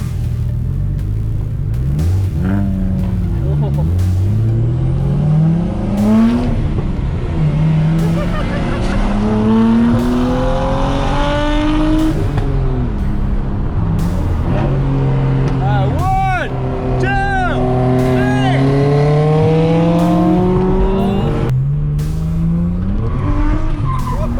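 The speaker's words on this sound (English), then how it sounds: "Do a burnout!" A turbocharged 1JZ-swapped Nissan S14 240SX does a burnout, its engine revving up and down in loud rising sweeps while tires squeal. People shout and talk nearby over the noise.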